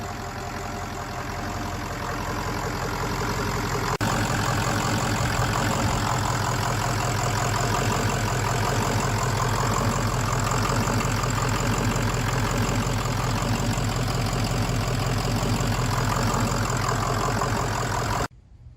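A 600 hp diesel engine in a Ford Excursion idles steadily and close, with a deep, even rumble and a slight knocking clatter. It runs alone for about eighteen seconds without talk, then cuts off abruptly at the end.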